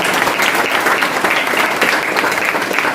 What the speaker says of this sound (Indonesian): Berikan aplaus dulu Pak Syukur Nababan.